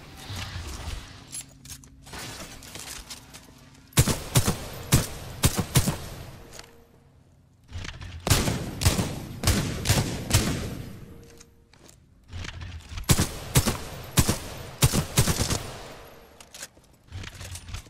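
Three loud volleys of rapid gunfire ring out at a shooting range in a first-person shooter game, each burst of sharp overlapping shots lasting a few seconds, separated by brief quiet gaps with faint mechanical handling sounds.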